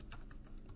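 Soft, quick clicks of a computer keyboard being typed on, five or six light taps in a brisk rhythm, close and quiet, with no talking.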